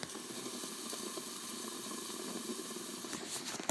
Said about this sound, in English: That's the sound of bubbling.